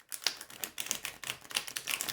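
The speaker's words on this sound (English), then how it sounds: "Riffle shuffle." A Nicolas Conver Tarot de Marseille deck is riffle shuffled close up, giving a rapid, uneven flutter of crisp card clicks and slaps that comes in several quick bursts over about two seconds, with no talking.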